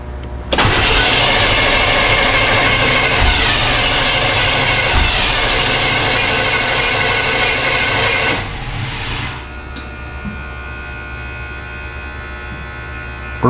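A truck fuel pump runs with a loud, steady electric whine and hum for about eight seconds, then cuts off and leaves a quieter low drone, no one speaking.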